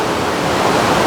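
Water pours down over rocks in a constant loud rushing wash, dense and steady with no pauses and no voices.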